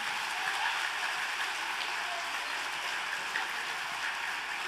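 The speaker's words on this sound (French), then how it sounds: "un tonnerre d'applaudissements pour les 6e A de Madame Virginie" Sustained applause for a sixth-grade class at a primary school ceremony at Ursulines in Mons, a steady dense patter of many hands clapping evenly throughout with no talking.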